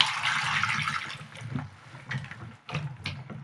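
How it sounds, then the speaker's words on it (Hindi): Green chillies are rubbed and washed by hand in water, giving close splashing and sloshing with a few brief pauses and bursts of swirling water. "हाथों से मसल कर एक से दो पानी अच्छे से हम इसे धो लेंगे"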